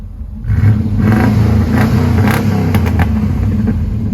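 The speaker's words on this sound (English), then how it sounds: "Go ahead and rev it up a little bit." A 1996 Chevrolet Silverado pickup truck engine runs close by with a loud, steady low rumble that swells as it's revved up and held.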